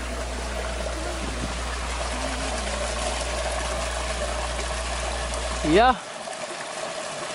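Water from a small alkaline spring in Jamaica trickles steadily nearby under a constant outdoor hiss, with a brief spoken word near the end.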